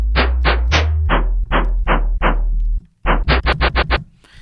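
A wavetable synth plays a dubstep bass built from an imported snare sample, a series of punchy, gritty hits in a bouncing rhythm with a brief gap before a faster cluster of stabs, loud and close.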